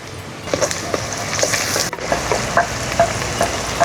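Chopped green chillies and turmeric frying in a pan for mutton kheema, a steady sizzle with scraping stirs and clinks throughout, close and fairly loud.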